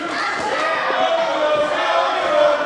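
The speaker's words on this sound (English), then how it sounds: "And the crowd chanting, "Let's go, Mojo."" A large wrestling crowd chants "Let's go, Mojo" in a sustained, loud, reverberant roar with rhythmic voices filling the arena.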